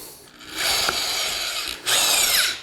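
A power drill fitted with a paddle mixer whirs steadily as it churns drywall mud in a bucket, running in two loud sustained bursts with a brief dip between them.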